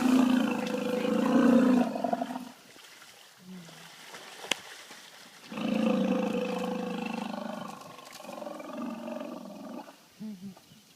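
An orphaned baby elephant calf at a Zambian elephant orphanage rumbles and bellows in two long, loud bursts separated by a quieter gap, with a few softer calls near the end.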